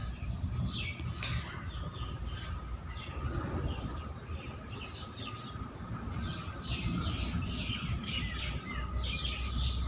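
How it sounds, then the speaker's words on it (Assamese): Birds chirping and calling at Guwahati zoo, a steady overlapping chorus of tweets and trills alongside insect-like buzzing, moderately near and continuous over low outdoor background noise. "আৰু এইবোৰ চৰাই"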